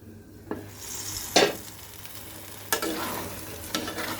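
Fish sizzling in a frying pan while being stirred, with a steady frying hiss and a few sharp scraping strokes of the spatula, close and alone without talk.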